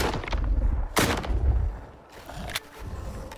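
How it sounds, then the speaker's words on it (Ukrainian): Close-range shotgun blasts in the video game STALKER 2: two loud, sharp booms about a second and a half apart, each followed by a brief rumbling tail over steady game background noise. "Так що будемо стріляти зблизька"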